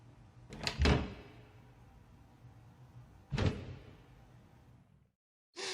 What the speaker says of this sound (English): man walks through door.